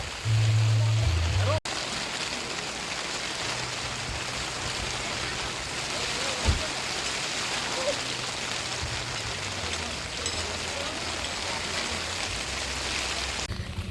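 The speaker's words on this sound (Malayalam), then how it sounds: "വെളിയിൽ നല്ല മഴ സ്റ്റാർട്ട് ചെയ്തിട്ടുണ്ട്" Heavy rain pours outdoors in front of a school at Mamalakandam, with wind and mist about. A steady, dense hiss runs throughout, preceded by a brief low rumble of handling noise at the start and a single soft thump midway.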